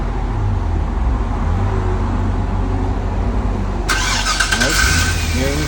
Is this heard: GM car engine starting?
yes